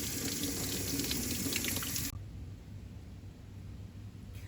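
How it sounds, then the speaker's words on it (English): Tap water runs into a kitchen sink to rinse a sweet potato, a steady hiss of flowing water that cuts off abruptly about halfway through, leaving faint room noise. "Then I'm going to take this potato, for example, bring it over to the sink, and rinse it off."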